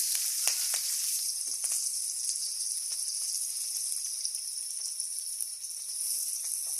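Onion, green chilies and black cumin fry in hot oil with a bright, constant high-pitched sizzle and occasional light pops, moderately loud and uninterrupted throughout.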